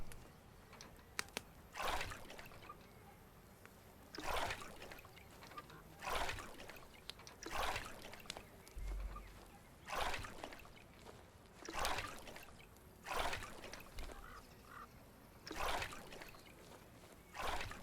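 In the video game Medieval Frontiers, water is drawn from a well, heard as faint, repeated sloshing and pouring splashes arriving every two seconds or so over a quiet background.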